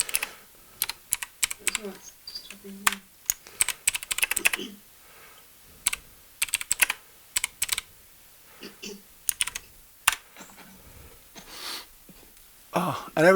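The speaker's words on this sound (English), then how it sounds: "I'll just type in a message for Richard." Typing a message on a computer keyboard produces bursts of close, crisp key taps with short pauses between words, with occasional breathing in the background.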